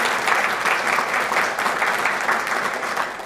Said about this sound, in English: You can clap for them if you'd like.